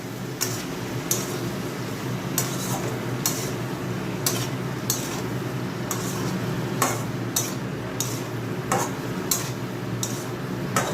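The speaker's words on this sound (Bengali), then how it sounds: "এবারে মাছগুলো দিয়ে দিলাম একটু নেড়ে চেড়ে চাপা দিয়ে দেবো" Fish are stirred in a cooking pan over a steady sizzle, with a regular series of light clicks and taps from the utensil against the pan, close and without talk.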